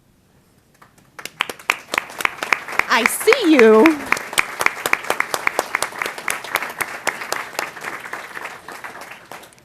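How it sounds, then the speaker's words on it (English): An audience at a special board meeting bursts into applause, a dense patter of many hands clapping that swells and continues steadily, with a brief spoken voice over it midway. "give them a round of applause"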